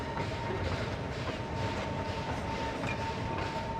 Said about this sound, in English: It is a very tiny train, but I love it.